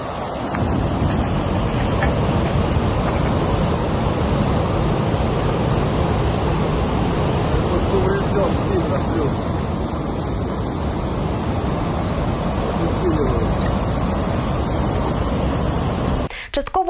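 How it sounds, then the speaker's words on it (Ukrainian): Floodwater surges after a reservoir dam breach, a heavy, continuous roar of rushing water with wind buffeting the microphone, loud and unbroken until a brief handling noise at the very end. "Місцеві пабліки поширюють відео наслідків прориву греблі."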